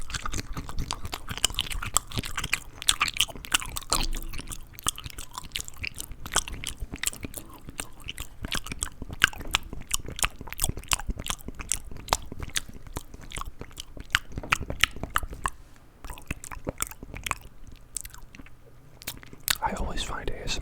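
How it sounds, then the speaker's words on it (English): Crunchy cashew nuts chewed close to the mic in a steady stream of crisp bites and mastication clicks, with faint whispered talk mixed in. "Chewing them a lot. Gonna make peanut butter in my mouth. Cashew."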